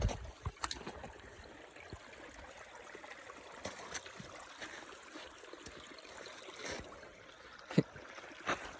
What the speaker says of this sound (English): some running water.